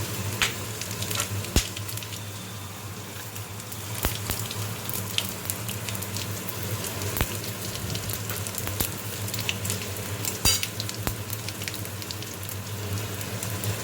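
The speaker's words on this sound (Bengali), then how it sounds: "এবার ওই তেলে আমি একটা শুকনো লঙ্কা একটা তেজপাতা দুটো এলাচ লবঙ্গ আর একটু দারচিনি ফোড়ন দিলাম আর দেবো জিরে" Dried chilli, bay leaf, cardamom, cloves, cinnamon and whole cumin sizzle steadily in hot oil, a close, continuous crackle broken by sharp pops, with no talking.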